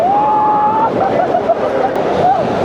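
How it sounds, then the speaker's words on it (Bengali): Rough monsoon surf churns loudly and continuously at Patenga sea beach in Chattogram, with wind and faint background voices mixed in. "সমুদ্রের ঢেউয়ের গর্জন দেখেন, শব্দটা শোনেন।"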